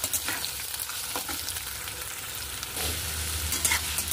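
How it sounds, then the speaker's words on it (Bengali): Chopped onion sizzles and crackles steadily in a hot pan while being stirred, with scraping of the utensil and a brief surge of frying near the end; no talking. "কুচনো পেঁয়াজটা দিয়ে আমি ভালো করে একটু নেড়ে চেড়ে নেব।"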